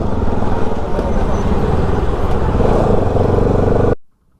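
Busy road traffic in Bhopal, India, a steady dense rumble of cars, motorbikes and heavier vehicles passing close by, running loud and continuous before cutting off abruptly near the end.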